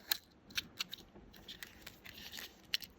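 Small scissors snip beading thread for a pair of dangle earrings, giving several quiet, crisp close-up cuts at irregular intervals.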